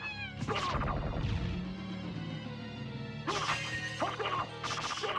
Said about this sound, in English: It's a kitty with a hat!